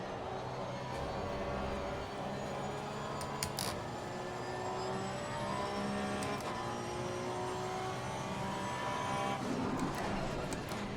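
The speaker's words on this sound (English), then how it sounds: "You just hear the car going over the puddles." A race car engine drones steadily in Assetto Corsa Competizione, with splashy hissing textures and occasional bursts as the wheels run through puddles, continuous throughout.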